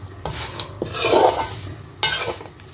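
Panjeeri fried and stirred in a pan, with a few close metallic scrapes and clinks of a spoon against the pan, a soft frying hiss between them.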